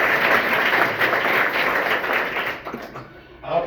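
A group of children applauding in a classroom, a dense, loud clatter of claps lasting a few seconds before thinning out, with a brief rise again at the end.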